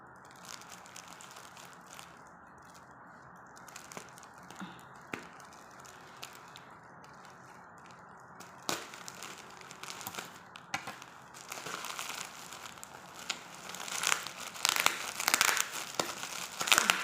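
A package is torn open and unwrapped by hand, heard as steady crinkling and crumpling of wrapping with scattered sharp rips. The sound is faint at first and grows busier and louder toward the end, with no talk.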